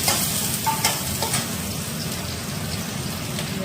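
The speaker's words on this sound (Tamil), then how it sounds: "வெங்காயம் சேர்த்துக்கணும். கறிவேப்பிலை போட்டுக்கணும்." Onion and curry leaves frying in a pan for bitter gourd kuzhambu, a loud, dense, rain-like crackling sizzle with a few soft stirring knocks early on.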